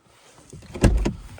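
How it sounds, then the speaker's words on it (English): A Volvo S90 car door opens and swings shut nearby, giving a short mechanical clunk and latch thump with a brief rustle before it, heard on its own. "Open your door."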